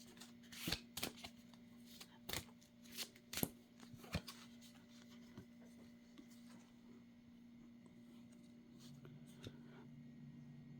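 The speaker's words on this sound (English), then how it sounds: "I'm going to pull an extra card each out of this deck to clarify." A deck of tarot cards being shuffled close up, several quick riffling bursts of papery flicks in the first half, then quieter occasional handling over a faint steady hum.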